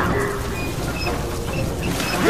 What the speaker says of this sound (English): Unsealing doors now.